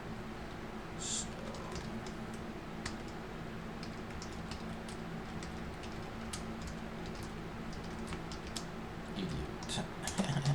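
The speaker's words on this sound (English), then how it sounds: "Okay, so now I'm typing this here into here." A computer keyboard being typed on in a steady run of quick, light clicks, with a few louder keystrokes near the end.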